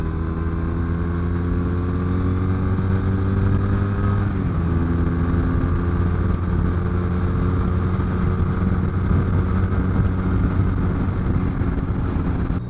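A Triumph Brooklands Bonneville café racer motorcycle rides along with a steady, loud engine drone that holds a constant pitch, dipping briefly once as it shifts, then carrying on without talk.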